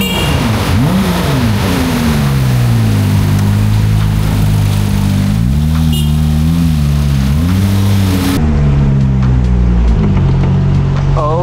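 A Porsche 997 drives with a loud engine drone close by, the pitch climbing and falling as it accelerates and changes gear, with road and wind noise under it.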